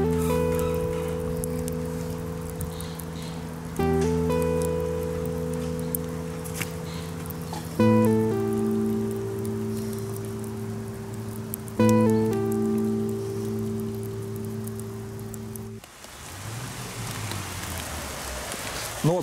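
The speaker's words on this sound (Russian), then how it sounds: "Ну вот, пацаны, нас тут настиг дождь в лицо." Heavy rain pours down outdoors in a constant hiss throughout, while a loud droning tone with repeating stepped notes sits on top and briefly cuts out near the end.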